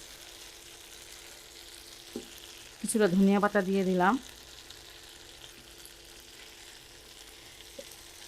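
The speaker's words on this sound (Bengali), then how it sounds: "এটা ভাজার সময় একটু সাবধানে ভাজতে হয়, অনেক সময় কিন্তু ফুটে।" An egg snack mixture fries in a pan with a faint, steady sizzle throughout, briefly covered by a voice speaking in the middle.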